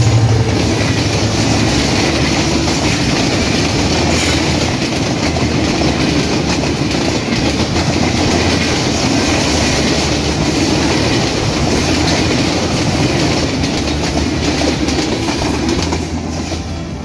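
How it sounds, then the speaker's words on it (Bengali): Silhati Express, a Dhaka-bound intercity train hauled by an American 6630-series locomotive, runs at high speed through Akkelpur railway station, a loud, steady rumble with a rapid clickety-clack of wheels over rail joints lasting the whole pass. "এই মুহূর্তে আক্কেলপুর রেলওয়ে স্টেশনের 2 নম্বর লাইন দিয়ে থ্রু পাস করে চলে যাচ্ছে ঢাকা অভিমুখে"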